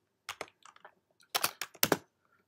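Someone types on a computer keyboard while coding Python string formatting, with soft irregular clicks in two short clusters separated by a pause, close and quiet, no voices.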